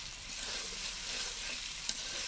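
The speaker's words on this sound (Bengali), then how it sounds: "কষানো হচ্ছে ভালো মতো, মশলার কাঁচা গন্ধটা যতক্ষণ না যায় ততক্ষণ কষানো হবে" Spices for beef curry sautéing in a pan over a stove: a steady, close, hissing sizzle with faint stirring scrapes throughout and no talk.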